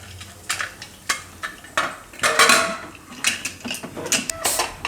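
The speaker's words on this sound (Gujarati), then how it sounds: "તો હવે કુકરનું ઢાંકણું બંધ કરી દેવું." A metal pressure cooker lid is closed over sai bhaji with clanks, scrapes and a twisting rattle, heard up close as a series of sharp metallic knocks without talk.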